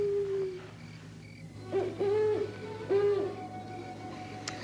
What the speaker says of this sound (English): That's just an old owl.